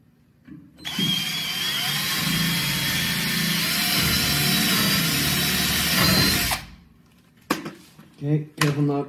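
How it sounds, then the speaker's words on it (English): A loud, steady power drill whirs continuously for several seconds drilling through a utility trailer, then cuts off, followed by a few brief clanks and knocks. "You're going to drill up through one of the holes that you drilled."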